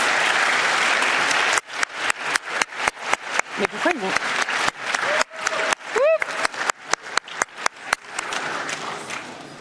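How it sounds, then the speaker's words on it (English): Applause fills the hall at the LUX 2023 award ceremony, at first a dense roar of clapping, then slower, more separate claps. Someone speaks over it into a microphone for a while. "Yes, you can keep applauding them, because we're really happy that they're here."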